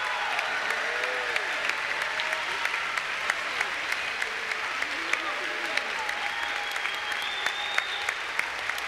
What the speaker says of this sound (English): Fans, let's hear it one more time for Hall of Fame coach and five-time NCAA champion, John Dunning